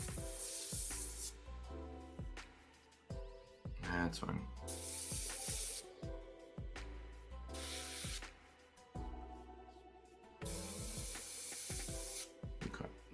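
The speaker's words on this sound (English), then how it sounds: "So what I'm doing is I'm test spraying." An airbrush test-sprays paint for weathering a model aircraft, giving close hissing bursts that start and stop in several pulses of differing length, and someone says a few words between them.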